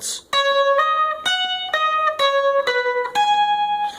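A quick run of plucked electric guitar notes, each struck cleanly and ringing into the next, with one note held ringing underneath.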